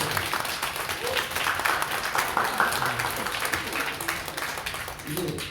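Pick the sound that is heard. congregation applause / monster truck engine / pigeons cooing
congregation applause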